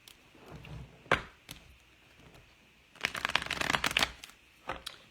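Tarot cards being shuffled close up, with a few sharp taps and snaps followed by a dense burst of riffling flutter, then a couple of final taps, fairly quiet overall.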